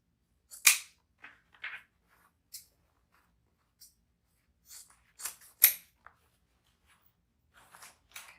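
Scissors snip through deco mesh ribbon, trimming dovetail ends at different lengths for an Easter bunny spring wreath; a dozen or so short, crisp cuts come in irregular bursts with quiet pauses, close and fairly clear.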